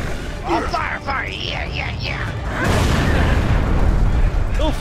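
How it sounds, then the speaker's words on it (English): A frag grenade explodes in the video game Gears of War 3, a loud booming blast rolling under excited player voices and other game effects. "Oh, frag grenade!"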